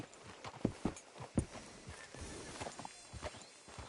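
Hooves of a horse walking in the Red Dead Redemption 2 video game, a steady clip-clop of several distinct footfalls, fairly close and moderately loud, with no talk over them.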